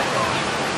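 A small waterfall in a walk-through aviary produces a steady, dense rush of splashing water, close and loud, with faint crowd babble mixed in.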